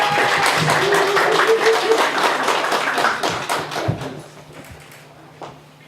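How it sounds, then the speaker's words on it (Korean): Audience applause at a Korean Labor Party leadership campaign rally, as a deputy candidate is introduced: brisk close clapping that thins out and dies away over the last two seconds. "박수 부탁드립니다"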